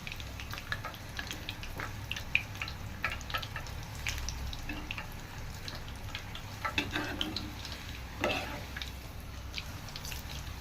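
Mukhmal puris, an old-style sweet, fry gently in hot oil, giving a soft, steady sizzle and light bubbling with occasional crackles, fairly quiet and even throughout.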